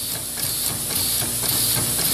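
Tesla turbine runs steadily on compressed air from a trompe ram, giving a continuous loud hissing whoosh with a faint regular pulsing throughout.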